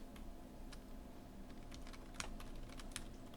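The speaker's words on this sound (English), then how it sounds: "In here, this is where you can type any notes that you need to tell Jeremy" Keys clatter on a computer keyboard as notes are typed into print job software, light quick clicks in short irregular bursts over a steady low background hum.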